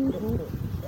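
A freshly trained racing pigeon cooing close by, a brief soft low coo over faint background noise.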